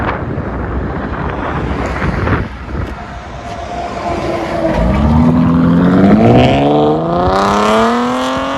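A Chevy Camaro V6 with an aftermarket exhaust starts out with a steady rumbling idle under wind noise. The engine then revs up in a rising, throaty swell and eases back down, heard close and loud.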